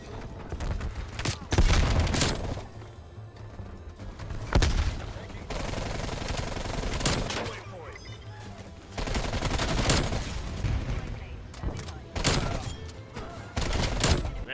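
Gunfire in a first-person shooter game on a multiplayer map, including shotguns and a QBZ rifle: repeated loud bursts and rapid volleys of shots, dense and continuous with booming blasts throughout.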